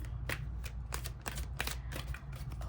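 Oracle cards shuffled by hand in a steady rapid series of soft papery riffles and slaps, close and alone over a low constant hum, with no talk.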